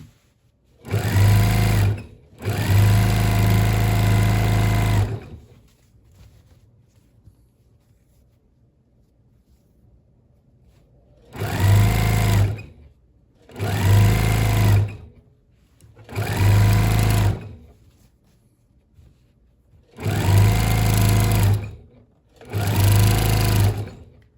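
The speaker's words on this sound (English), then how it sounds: "I'm still using my walking foot because I have this very thick amount of fabric in the quilt" A sewing machine with a walking foot stitching through a thick quilt, running in several loud, close bursts of steady whirring and rapid needle thumping, separated by quiet pauses.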